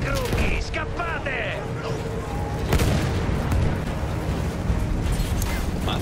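Cannon fire and explosions in the World War I video game Battlefield 1, booming blasts and rumbling gunfire layered continuously under excited shouting voices.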